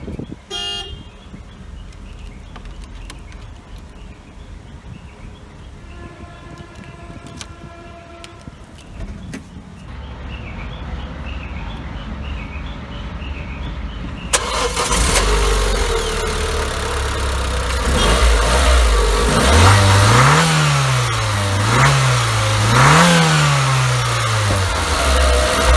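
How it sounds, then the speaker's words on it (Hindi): A 2018 DC Avanti sports car starts up and its engine settles into a loud idle, then revs repeatedly in rising and falling sweeps, close by and with no talking. "आइए अब कार को ऑन करते हैं और इंजन साउंड सुनते हैं।"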